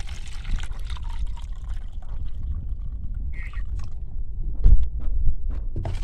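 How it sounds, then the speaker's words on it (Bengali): Water poured onto garden soil in a sack of plants, a steady soft splashing trickle throughout with a louder gush near the end, no talk. "জল মিশিয়ে দিচ্ছি।"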